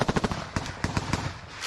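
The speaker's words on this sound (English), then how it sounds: "You can see them still firing." Rapid bursts of automatic gunfire in combat, a quick string of sharp cracks followed by scattered shots, heard at moderate distance without talk.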